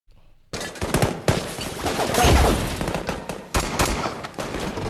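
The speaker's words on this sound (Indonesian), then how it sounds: "sekelompok orang-orang bersenjata datang dan mulai menembaki mereka" Gunfire in a film shootout as armed men open fire, rapid automatic bursts and sharp single shots starting abruptly after a brief quiet, loud and close, with a heavier blast in the middle.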